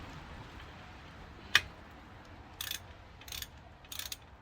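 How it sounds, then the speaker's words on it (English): A ratchet clicks while undoing a small bolt on the brakes of an Audi S3, with one sharp metallic snap followed by three short, quiet bursts of ratcheting, close up with no talk. "we'll need a ratchet to put on this little bolt here and basically undo it"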